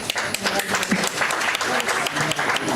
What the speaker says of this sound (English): Please give this next generation a big round of applause.